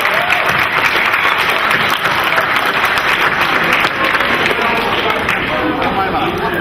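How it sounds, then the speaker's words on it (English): A conference audience at a healthcare innovation event gives itself a round of applause, loud, dense clapping that stays full and steady throughout, with some crowd murmur mixed in. "Give yourselves a round of applause"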